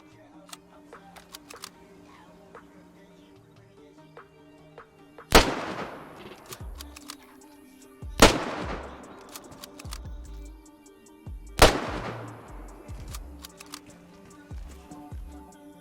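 Rifle shots from an SSG-82 in the video game DayZ: three loud, sharp reports spaced a few seconds apart, each with a long decaying echo, over faint game ambience.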